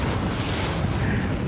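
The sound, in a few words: thermonuclear warhead explosion in Civilization VI video game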